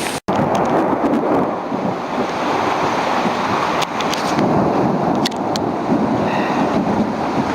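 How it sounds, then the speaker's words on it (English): Strong wind in a possible cyclone roars and buffets in a loud, constant rush, with a few brief knocks and rattles breaking through and no voices. "Now, this is certainly a decent wind."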